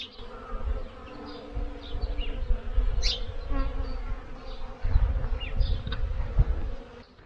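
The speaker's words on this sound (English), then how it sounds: "And can you hear the bees?" Bees buzz around tree blossoms in a spring garden, droning steadily with individual insects swelling louder as they pass close, no voices present.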